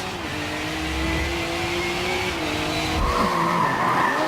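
Race cars in Forza Motorsport 7 rev hard and squeal their tires in a continuous, loud wall of engine drone and skidding, with pitch sweeping up and down as they corner.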